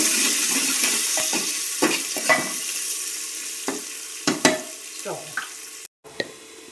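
Onions and chopped chillies fry in a pan, with a fading sizzle broken by sharp scraping stirs and clinks of a spoon against metal. The sound is close, there is no talking, and it cuts out briefly near the end.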